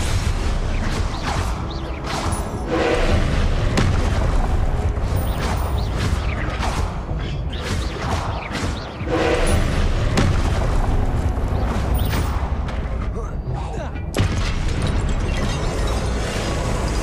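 Hogwarts Legacy spell effects: repeated whooshing bursts, pops and booming impacts in quick succession, loud and continuous, with faint game sounds beneath.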